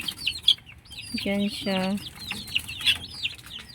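Small farmyard chickens cluck in a short run of low, throaty calls, with thin high peeping chirps scattered around them, close by. A person talks over the birds.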